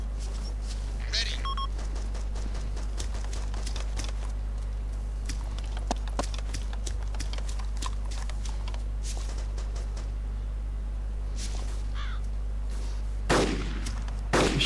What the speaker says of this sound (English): I can hear the shots coming in.